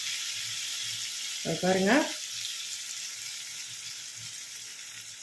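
Karthigai appam batter poured into hot oil sizzles and fries steadily, a constant close crackling hiss, with a short spoken word partway through.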